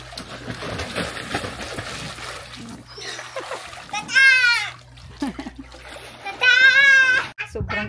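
A child splashes in a shallow, lightly filled swimming pool, with uneven bursts of close water splatter and a voice calling and squealing over the splashing.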